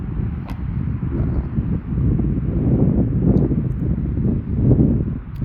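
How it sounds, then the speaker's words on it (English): Strong night wind buffets the microphone outdoors where a small DJI Mini 4K drone is flying, a steady, loud, low roaring rush that swells and dips in gusts throughout, with no other sound standing out. "it is getting proper windy, by the way"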